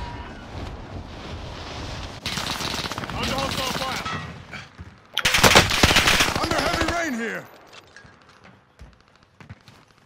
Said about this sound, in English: somebody was shooting from this building